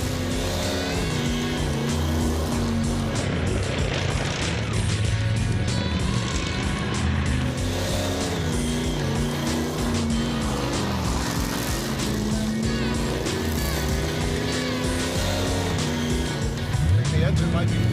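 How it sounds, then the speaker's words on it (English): A misfiring 302 V8 in an '86 Thunderbird revs hard and unevenly through donuts, its rough stuttering roar loud and close for the whole stretch, with faint tire scrub and occasional voices underneath. "It's already missing. Yeah, it's misfiring."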